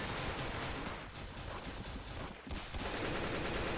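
Video game gunfire crackles in a dense, rapid stream of shots, loud and close, with a short break partway through before firing resumes.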